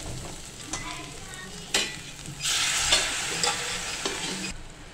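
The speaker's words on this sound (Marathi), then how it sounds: "आता आपण ह्याच्यामध्ये थोडासा एक पळीभर आपण आळणी रस्सा टाकणार आहे" A ladle of unsalted mutton broth is poured into masala frying in a pan for mutton sukka, and a burst of loud, close sizzling rises over the ongoing stirring and scraping.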